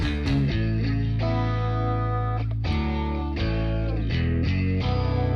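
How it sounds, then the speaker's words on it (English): Electric guitar with effects plays sustained chords, each held for a second or two before changing, loud and full with a smooth, slightly distorted tone. "the rhythm guitar that was doubling the bass now starts to play chords and kind of hold chords out"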